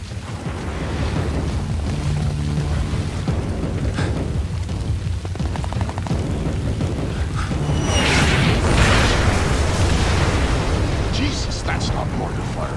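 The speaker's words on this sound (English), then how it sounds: "Jesus, that's not mortar fire. Sounded like Katushas." Katyusha rocket barrage in the video game Splinter Cell Blacklist, a continuous heavy rumble of distant explosions that swells louder midway, with characters speaking over the din.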